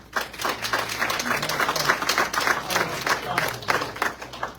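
An audience claps steadily at a public meeting on the Carr Road development in Dearborn County, with dense, continuous applause filling the room for several seconds and faint murmuring underneath.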